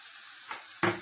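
Fish cakes frying in a pan, a steady quiet sizzle that swells briefly, then a louder burst of spitting and crackling near the end.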